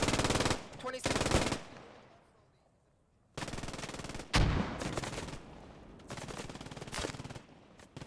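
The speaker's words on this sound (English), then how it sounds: "A machine gun was pinning them down." Automatic machine gun fire in the WWII shooter Post Scriptum during a large realism battle, coming in several sustained bursts separated by quiet gaps, with a heavier thump midway.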